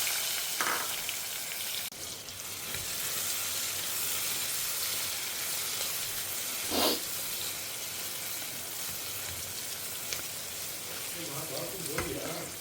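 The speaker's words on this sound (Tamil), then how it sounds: "கடுகு பொரிய ஆரம்பிக்கிறது." Mustard seeds spluttering alongside chopped onion frying in a home kitchen pan, a steady loud sizzle with a few sharp pops and stirring scrapes, no talk.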